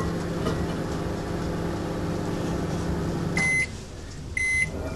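A microwave oven set outdoors on a slope hums steadily while heating an egg, then its running stops and two short electronic beeps sound close by.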